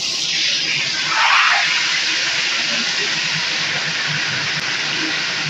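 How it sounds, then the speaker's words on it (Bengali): Cauliflower florets drop into hot oil and set off a loud, dense sizzle that swells briefly, then holds steady and close throughout. "এখন আমি এই তেলের মধ্যেই দিয়ে দিব ফুলকপিগুলোকে"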